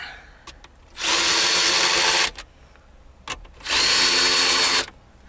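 A power drill drives two 7mm screws into the dash of a 2015-2019 Ford Fiesta MK7 during a Sync 3 upgrade, giving two loud, steady whirring bursts of about a second each, separated by quiet.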